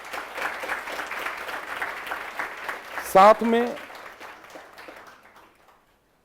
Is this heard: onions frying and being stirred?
no